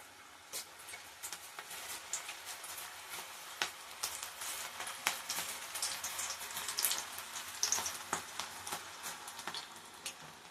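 Cabbage pakoda batter frying in hot oil over medium heat, a dense crackle of popping bubbles and sharp ticks that crowds the whole clip without pause, like steady rain on a surface.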